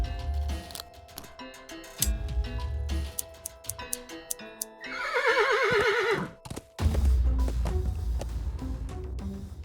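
A horse neighs in the point-and-click adventure game Willy Morgan and the Curse of Bone Town, one loud wavering whinny rising over ticking game sounds and soft hoof clip-clops, with no talk.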